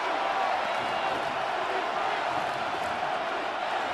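A stadium crowd roars in a Madden NFL 26 game between the Chicago Bears and Carolina Panthers, a dense, steady wash of cheering that holds loud and unbroken throughout.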